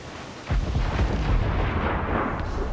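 Ship cannons fire in the naval combat of the video game Assassin's Creed Black Flag: a sudden loud boom followed by a dense, rumbling roar of continued broadside fire.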